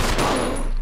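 Gunfire in the video game Resident Evil 0: a loud, sharp burst of shots that fills the whole short moment.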